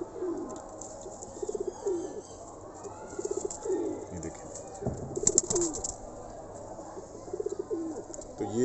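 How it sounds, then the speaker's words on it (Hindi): A blue pigeon coos in low, soft, repeated phrases close by, with faint chirps and rustling around it in a quiet loft. "ये थे जी हमारा नीला कबूतर"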